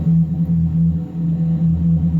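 Guitar amplifier picked up by a distant room microphone, a steady boomy low-end drone with a sustained hum and little upper brightness, continuous and alone for about two seconds.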